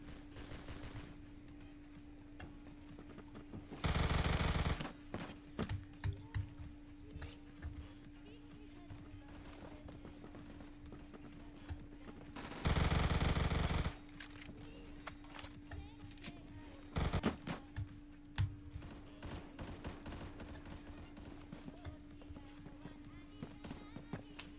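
Light machine gun fire in a Roblox shooter comes in several loud sustained bursts, one short and two longer, over a constant hum and scattered game noise.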